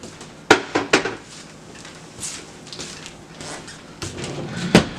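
A bowl that held heavy cream set down in a kitchen sink, giving a few sharp clatters near the start and another knock near the end over a quiet room.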